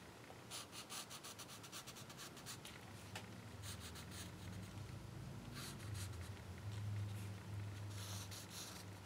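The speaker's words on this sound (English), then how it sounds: "I'm going to take a Stabilo pencil in black." A black Stabilo pencil moving over paper, with faint, quick scratchy strokes in clusters and soft rubbing in between, quiet and close, with no speech.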